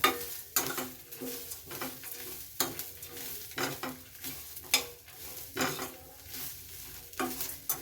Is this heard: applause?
no